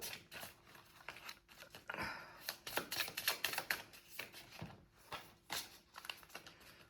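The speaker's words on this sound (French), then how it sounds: "Attends, je mélange mon jeu." A small deck of playing cards being shuffled by hand, giving a run of quick, crisp riffling clicks and flutters in close, irregular bursts with no talk.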